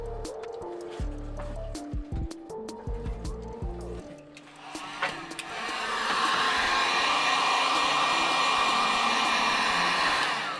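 Heat gun warming vinyl wrap on a Toyota 4Runner TRD hood scoop: after some soft handling noises, a loud, steady blowing whir starts and holds to the end.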